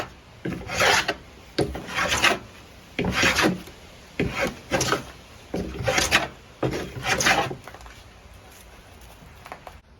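Hand tool shaving a curve into 70-year-old wooden siding, rasping in repeated short strokes with brief pauses between, close and fairly loud, no talk.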